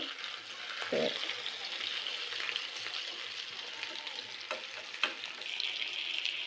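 Chicken chaap pieces frying in a pan on medium-low heat, a steady soft sizzle throughout with a brief stir or clunk early on and a couple of sharp spatters, no speech.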